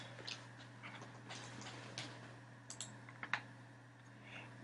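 Typing on a computer keyboard: quiet, uneven bursts of light key clicks over a faint steady hum, close but soft.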